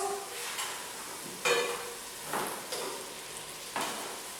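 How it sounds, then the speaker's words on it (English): Meatballs browning in a frying pan, a soft steady sizzle broken by several scraping stirs and clinks of a utensil against the pan, fairly quiet and close, with no talking. "I am browning the meatballs."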